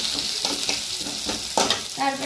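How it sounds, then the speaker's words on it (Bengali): Chopped onion fries in a little oil with a loud, continuous sizzle, broken by several bursts of stirring and scraping in the pan. "পেঁয়াজ কুচিটা ভেজে নিতে হবে ভালো করে।"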